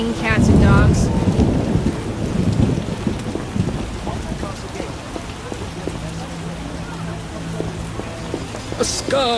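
Heavy rain pours steadily with rolling thunder in the medieval fantasy world of The Witcher video game, a loud rumble at the start fading into constant close downpour with scattered drops.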